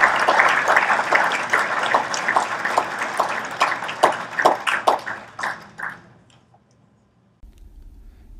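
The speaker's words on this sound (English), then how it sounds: "please give a warm round of applause for Ray Chason, 2017 Massachusetts Hockey Hall of Fame" An audience at a 2017 Massachusetts Hockey Hall of Fame awards event applauds an inductee, loud and dense clapping that thins into scattered claps and fades out. A low room hum remains after the applause ends.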